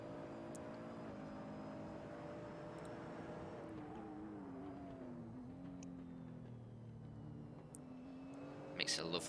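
A GT3 racing car engine in a video game at the Red Bull Ring drones steadily at high revs, its pitch rising and falling through gear changes, with a faint voice talking over it.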